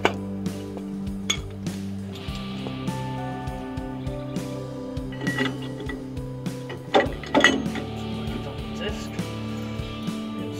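Metal bolts clink and rattle as they are handled during disc brake caliper work on a trailer, giving a series of sharp, close metallic chinks with small scraping knocks, heaviest near the end.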